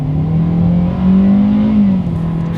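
A 2022 Hyundai Accent subcompact's engine drones up through the revs as it accelerates in sport mode, a loud steady hum that climbs in pitch, then briefly drops.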